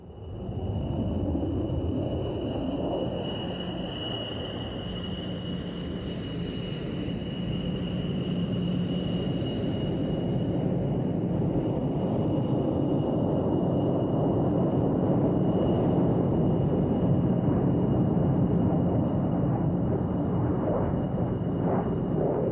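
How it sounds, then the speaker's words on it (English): A German Air Force MiG-29 jet flies at the Mildenhall Air Fete airshow, its loud, sustained engine roar and whine steady and distant-sounding, building slightly over time with no talk. "This German Air Force MiG-29 is making its UK airshow debut at Air Fete."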